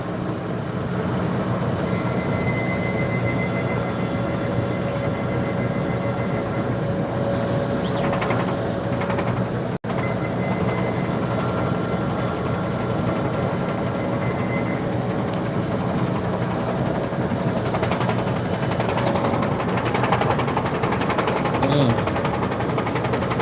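An inkjet printer runs a nozzle test, giving a steady mechanical whir and hum that holds at an even level throughout, with brief higher clicks and shifts near the middle and toward the end.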